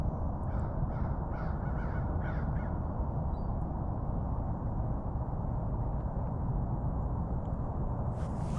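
Gulls call in a quick string of faint, distant cries at a river bend during a goose hunt, partly buried under steady loud wind or water rush.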